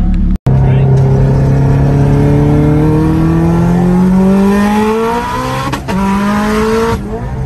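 A 600whp Subaru STI with a stock engine accelerates hard, its engine note rising steadily through the revs from inside the car, loud and sustained before a brief gear change and a return to pulling.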